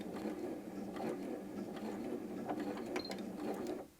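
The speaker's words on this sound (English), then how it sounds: "you can see that the machine sews at its slowest speed" A Janome M100 QDC sewing machine stitches at its slowest speed, giving a steady close mechanical chatter of gears with regular needle clicks, played alone without talk.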